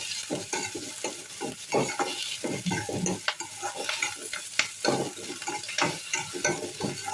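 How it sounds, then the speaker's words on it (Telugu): Sliced onions frying in oil with salt while being stirred, a busy close crackle of sizzling under repeated scraping strokes of a spoon against the pan. "ఉల్లిగడ్డలు త్వరగా వేగడం కోసం ఉప్పు వేసుకొని ఒకసారి అంతా బాగా కలుపుకొని"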